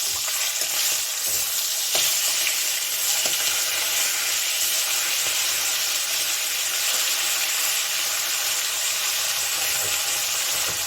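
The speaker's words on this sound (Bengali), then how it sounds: "ওই জন্য একটু ভাজছি এখন এই মাছটাকে" Katla fish pieces, rubbed with salt and turmeric, fry in hot oil in a pan, giving a steady, close, loud sizzle with a few faint clicks and scrapes and no voices.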